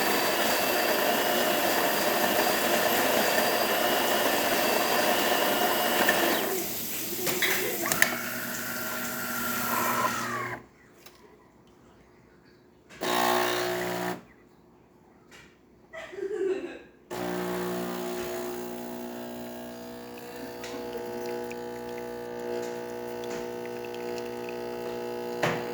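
A DeLonghi espresso machine pulling a test shot after a full tune-up, a steady pump hum and whirr that drops out twice for short pauses, then resumes with a droning, buzzing tone.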